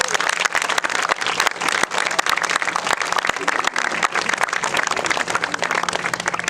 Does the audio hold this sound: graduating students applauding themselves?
yes